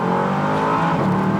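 Bentley Continental GT Azure with the performance exhaust option, 550 horsepower, launching hard from a standstill under launch control: a loud, close, steady engine roar building throughout with no pauses.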